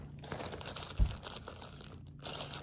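Plastic packaging around new Addi Turbo unicorn knitting needles crinkles close by in short rustling bursts with one sharper crackle, and no voice over it.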